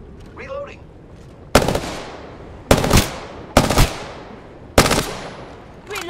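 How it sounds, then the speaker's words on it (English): Heavy bursts of gunfire in the video game Apex Legends, four loud separate volleys with ringing tails, and a short synthetic voice line before the first. "Shots fired at me."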